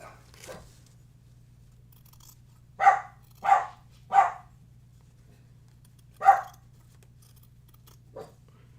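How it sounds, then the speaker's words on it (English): A dog barks indoors from behind a closed door, likely in a hallway: four sharp barks in an uneven run, then one more and a final soft yip, a little muffled, over a steady low electrical hum. "That's my dog."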